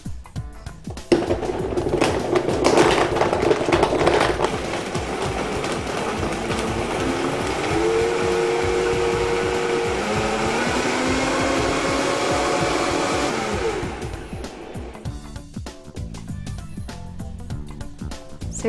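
A blender whizzes a breakfast smoothie with ice, starting with rough crunching then settling into a loud steady whir whose pitch shifts slightly before it cuts off, close by.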